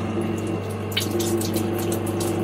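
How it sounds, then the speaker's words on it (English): An Ashbys Enforcer 400 psi pressure washer's water pump runs nearly dry, a steady droning hum with gurgling, sputtering air and water passing through the hose, continuous and close. "we don't want to let the pump dry run."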